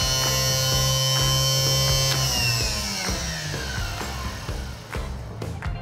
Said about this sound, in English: you make a connection between these two posts. And you can hear the motor running.